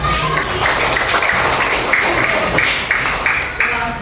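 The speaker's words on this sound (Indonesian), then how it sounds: "tepuk tangan untuk kita" Classroom applause, a group of students clapping steadily and fairly close, with a musical tone or voices faintly under the claps.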